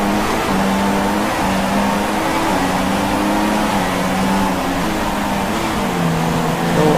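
An F1 race car engine from the F1 2016 racing game drones through a warm-up lap, a loud continuous whine with small shifts in pitch as it changes gear, steady and close, no talk.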